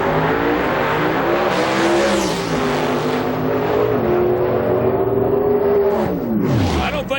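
An alcohol funny car leaves the drag strip starting line at a 2005 IHRA national event, its engine a loud, sustained roar that rises in pitch, then drops away as it speeds off.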